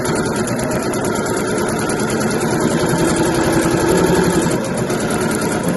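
A sewing machine runs steadily at close range while stitching the folded edge of a mesh laundry bag, a continuous, even mechanical whir with no pauses.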